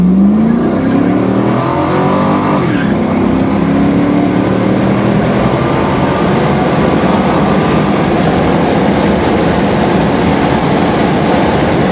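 A 2000 Pontiac Trans Am accelerates hard on a deserted side road just past railroad tracks, its engine roaring loud and steady with a rising whine throughout, no talking.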